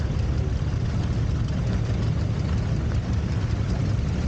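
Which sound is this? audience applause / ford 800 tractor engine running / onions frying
ford 800 tractor engine running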